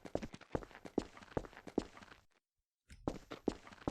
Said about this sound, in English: I can hear my own footsteps.